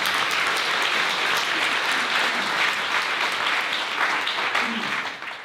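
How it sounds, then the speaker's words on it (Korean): Sustained applause from wedding guests fills a church ceremony hall right after a ring exchange, steady and dense throughout before tapering off at the end. "박수 해주시기 바랍니다"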